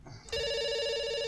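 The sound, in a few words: telephone ringing in a video game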